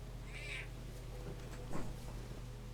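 A house cat gives a short meow early on, faint and close, with a second soft cry a moment later over a steady low room hum.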